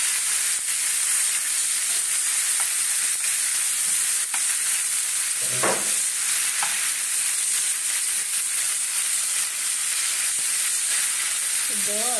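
Shrimp for a malai curry fry in a pan with a loud, unbroken close-up sizzle and hiss. A brief stirring scrape stands out near the middle, and there is no speech.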